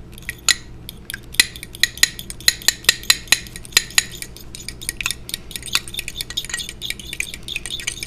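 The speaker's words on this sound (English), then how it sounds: "I'm going to take out a small fork. We're going to whisk this" Eggs beaten with a small fork in a dish, a rapid run of bright, close clicks and taps against the bowl that grows quicker and denser toward the end.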